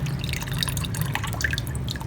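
Tap water poured onto the soil of a pot of sown cactus seeds: close, quick patters and drips of water landing on damp soil, steady and fairly quiet for two seconds.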